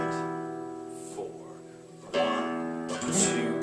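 A guitar plays a Latin ballad strum, a thumbed bass note on the first beat followed by a ring-finger drag across the strings, heard as a few ringing strummed chords, close and clear.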